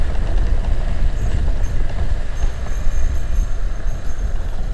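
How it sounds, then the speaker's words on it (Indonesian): A train rumbles past a railway crossing on Jalan Raya Salimah between Parung Panjang and Tenjo at night, a loud, close, continuous roar of wheels and carriages with faint rhythmic clatter throughout. "Nanti di depan ada kereta, jalan kereta lagi."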